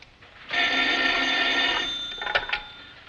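Telephone bell ringing in a 1940 serial, a bright electric ring that starts abruptly, holds for over a second, then breaks into a couple of short jangles, alone with no talking.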